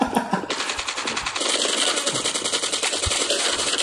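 Call of Duty Mobile gunfire: rapid, continuous automatic bursts, loud and close, rattling almost without pause after a brief opening shot.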